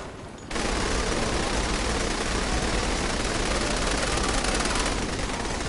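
Dense, sustained gunfire roars almost without pause from the Saints Row 3 Remastered video game, a loud continuous barrage with heavy low rumble that kicks in after a brief quiet start and holds steady to the end.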